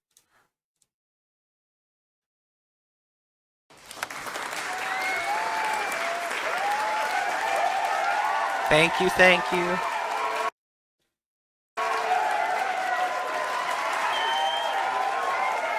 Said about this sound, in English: Round of applause for yourselves too, fellas.